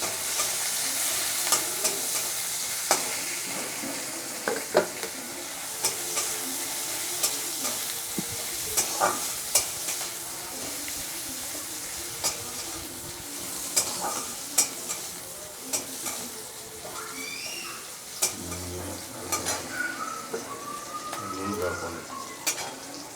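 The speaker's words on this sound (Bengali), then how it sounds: "এই তেলেই আমি আবার পেঁয়াজ আর লঙ্কা কুচি দিয়ে দিলাম।" Chopped onion and green chili fry in oil in a pan for chowmein, giving a steady close sizzle broken by frequent sharp scrapes and clicks of stirring.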